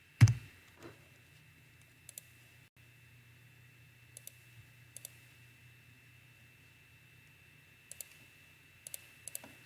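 Someone types on a computer keyboard while entering site and technician details into fiber optic OTDR testing software. A handful of crisp, isolated key clicks are spread out after an initial thump, with a faint hum underneath and no one talking.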